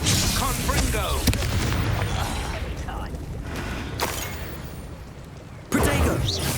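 A Confringo fire spell goes off during a duel in the Hogwarts Legacy video game, a dense, sustained booming blast with crackling bursts under game music and a shouted voice, then a sharp new impact near the end.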